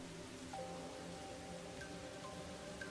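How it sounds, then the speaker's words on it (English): Steady rain falls throughout a scene in the video game Master Detective Archives, a constant hiss of downpour with faint tonal game sounds layered over it. "This is where all the rain is coming from."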